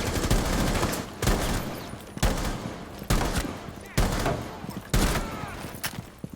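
Video game shooter gunfire, heavy shots in bursts roughly once a second, each a sharp crack trailing into echoing rumble, loud and close.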